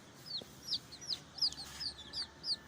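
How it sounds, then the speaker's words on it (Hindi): Repeated short, high chirps from young Ayam Cemani black-tongue chicks, nearby and fairly clear over a low background hum, coming about every half second. "ये ब्लैक टंग के चिक्स हैं।"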